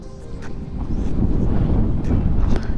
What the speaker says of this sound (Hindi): उतना ही तेज़ हवा चल रहा है यहाँ पे।